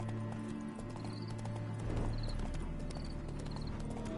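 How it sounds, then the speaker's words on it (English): Horse hooves clip-clop at an even walking pace in The Witcher 3, quiet and steady under a low ambient game score. "Spooking my horse."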